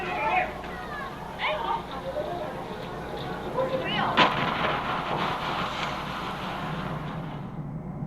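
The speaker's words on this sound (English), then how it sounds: "It's a devastating explosion, and one that created such a powerful shockwave" A devastating explosion with a powerful shockwave, played back from footage, comes through as a sustained rumbling blast with a sharp crack midway, under a continuous noisy background.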